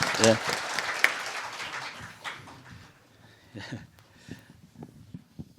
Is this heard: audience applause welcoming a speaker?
yes